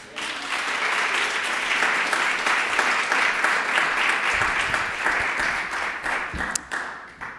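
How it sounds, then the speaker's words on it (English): A crowd applauds steadily and loudly for several seconds at an evening event in Connecticut's Old State House, the clapping thinning out and fading near the end. "Let's give her a round of applause."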